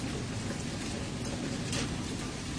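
Steady, unbroken rain falls during a prolonged August downpour, a dense continuous hiss of drops at even loudness with no voices.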